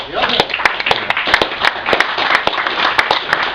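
Applause from a small indoor audience at a political talk in Coventry: scattered, uneven hand claps popping sharply one after another, moderately close, with speech-like murmur underneath.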